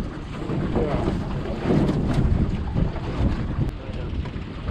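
Strong wind gusting across a lake around a small fishing boat during perch fishing, buffeting the microphone with a rough, continuous roar that swells in the middle, with faint voices underneath.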